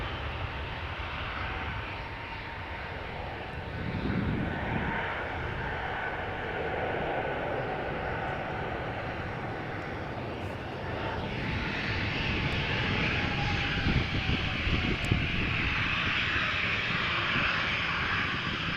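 Airbus Neo jet airliner passing at Amsterdam airport, a fairly quiet, steady broadband engine roar that swells gradually over about nineteen seconds, distant and unaccompanied by talk.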